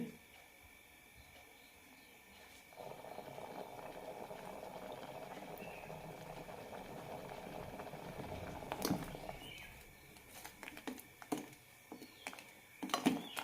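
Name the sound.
ash gourd mango curry boiling in pot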